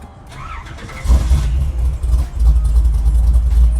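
A 1956 Ford panel truck engine is started by push button, with a short crank and then a loud catch into a deep, rumbling idle with small surges, close up.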